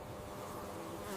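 Honeybees buzz in a dense, steady drone close by, a continuous hum of many wings near the hive with no voices.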